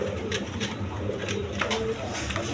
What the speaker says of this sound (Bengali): দর্শকবৃন্দ এখানে এক পেয়ার একটা সিঙ্গেল মাদি কবুতর আছে